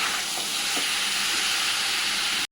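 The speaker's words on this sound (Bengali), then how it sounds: "চিকেনটা ভেজে নেবো ফার্স্টে" Loud, dense sizzling of chicken frying in oil, a constant crackling hiss that cuts off abruptly at the end.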